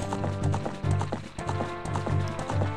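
Epona, the horse in a Zelda video game, gallops with a steady, rapid clip-clop of hooves in a fast rhythm over game music, loud and close, with no talking.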